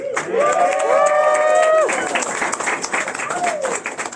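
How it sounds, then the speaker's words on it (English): A crowd applauds and cheers at a campaign canvass event in Nashua, a dense wash of clapping that starts loud and fades gradually, with a voice calling out briefly over the noise. "Let's give Steve and Christina a round of applause"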